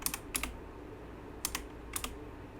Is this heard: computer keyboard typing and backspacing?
yes